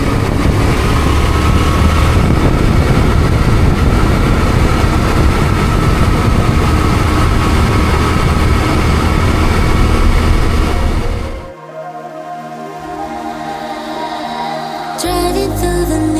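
A steady, loud motorcycle engine drones throughout a ride on a New Zealand road trip, then drops away abruptly near the end to quieter rumbling and a brief mechanical burst.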